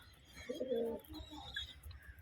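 Pigeons coo in a loft at dusk, a soft, low rounded call rising and fading over about two seconds, fairly faint with light chirps in the background.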